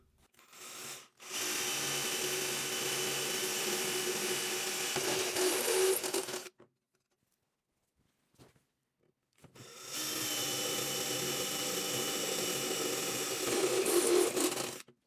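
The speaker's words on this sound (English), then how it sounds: "now that we got our holes drilled" A Ryobi power drill bores holes in a snowblower for an electric chute control kit, running in two long, steady whirring bursts separated by a few seconds of silence.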